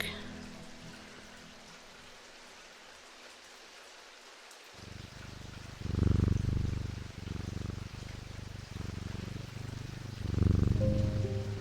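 A pet cat purrs in the video game Strange Antiquities, a soft low rhythmic rumble arriving in repeated swells after an early stretch of quiet, close and fairly gentle against faint ambient game noise.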